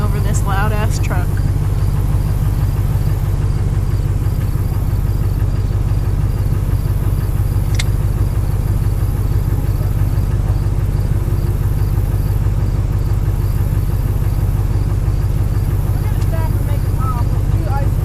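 A loud truck engine idles as a steady low rumble filling the whole stretch, close by and constant, with people talking over it.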